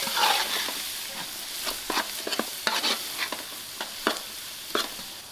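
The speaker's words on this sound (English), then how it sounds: "Now I'm adding this masala to my braise." Masala tipped into a vegetable biryani braise cooking in a big pot over an outdoor fire, frying with a steady sizzle broken by several sharp scraping stirs of a spoon, fairly close.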